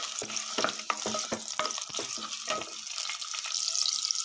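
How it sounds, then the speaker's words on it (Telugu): Stone flower spice fries in a pan for a pulao, giving a crackling sizzle broken by repeated clicking and scraping stirs, close and fairly loud, with no talk. "స్టోన్ ఫ్లవర్ అంటారు కదండి, అది తీసుకుని వేసేసుకుని కొంచెం వేయించండి"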